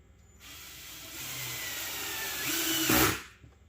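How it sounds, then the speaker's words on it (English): A power drill whines steadily for a few seconds while building a crawl space entry door, rising in pitch and loudness near the end before cutting off. "That drill scared me."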